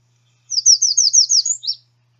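An American redstart sings one loud, close phrase of quick repeated clear whistles that builds and ends suddenly on a lower downslurred note, alone against silence.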